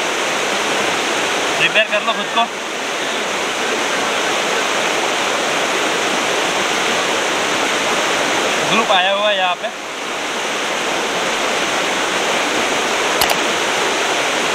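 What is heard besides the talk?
waterfall, Thottikallu Falls near Bangalore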